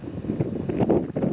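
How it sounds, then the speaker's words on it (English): Wind buffeting the microphone in uneven gusts in a park in Alaska, a low rumbling roar that rises and falls, loud and close. "Quite windy,"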